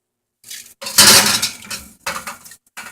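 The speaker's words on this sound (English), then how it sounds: "my pretzels are now ready, and I'm gonna get them out the oven" A metal pan of homemade baked Auntie Anne-style pretzels is pulled from a home oven with a few close clattering bursts of metal on metal, separated by short pauses.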